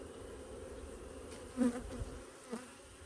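Honeybees in an opened hive colony during brood inspection, a faint continuous buzzing drone with a couple of slightly louder passes, close but quiet.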